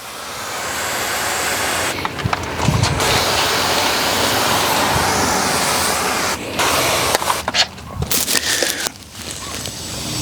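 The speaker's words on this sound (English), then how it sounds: "You can spray it on the wheels as well." Chemical Guys tire cleaner is sprayed onto the wheels of a motorcycle on a stand, a loud, close, continuous hissing spray that cuts out briefly a few times before resuming.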